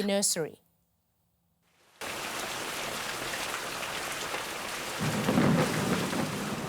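Heavy monsoon rain pours steadily in Jharkhand in eastern India, with a deep thunder rumble swelling beneath the downpour near the end, after a brief voice and a moment of silence at the start.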